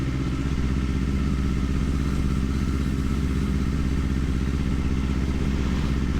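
A Kawasaki Ninja 500 motorcycle engine hums steadily and loudly at mid revs while riding through the city, shifted up early, with a constant drone and no speech.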